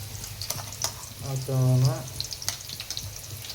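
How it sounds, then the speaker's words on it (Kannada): Ginger garlic paste fries in a hot pan with a steady, close sizzle, joined by brief stirring scrapes and a short spoken word midway. "ಎಲ್ಲ ಹಸಿ ಸ್ಮೆಲ್ ಹೋಗೋ ಥರ ಫ್ರೈ ಮಾಡ್ಕೋಬೇಕು"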